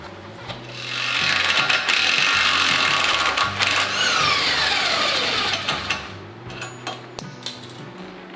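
An impact wrench removes a 36mm wheel hub nut during a wheel bearing change, giving a loud, sustained rattling hammer that lasts several seconds, then sputters out in short bursts.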